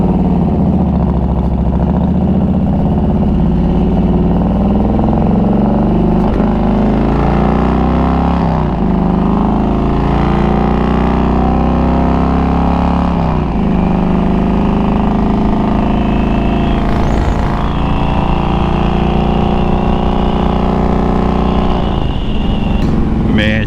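A Harley-Davidson Road King's engine idles close by, a loud, steady, throbbing rumble that runs unbroken throughout with slight shifts in pitch, while someone talks over it.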